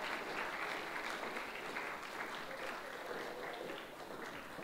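An audience at a coding-contest certificate ceremony keeps up steady, dense applause that fills the hall evenly and fades slightly near the end.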